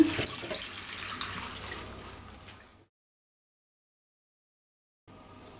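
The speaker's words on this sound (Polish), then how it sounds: "Wlewamy tutaj 2 litry wody." Water runs steadily from a tap into a pot for a few seconds, then stops abruptly, followed by silence and faint room noise.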